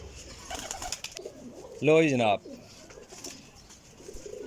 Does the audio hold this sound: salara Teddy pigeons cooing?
yes